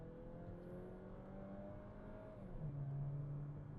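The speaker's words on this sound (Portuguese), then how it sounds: "vamos ver como que ele acelera de 0 a 100" An SUV with a torque converter automatic accelerating hard from 0 to 100 km/h, its engine drone rising steadily in pitch from inside the cabin, dropping briefly at a gear change and then climbing louder again, with no talking.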